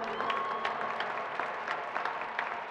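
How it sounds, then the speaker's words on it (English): A crowd applauds a speaker at a college commencement ceremony, steady massed clapping at a moderate distance with scattered sharper claps. "another round of applause for Ms."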